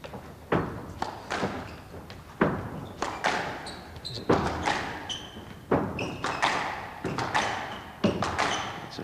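A squash ball struck back and forth in a long rally of a 1991 World Open final between Jahangir Khan and Rodney Martin, with sharp racket hits and wall thuds spaced roughly a second apart, echoing in a court with faint sneaker squeaks.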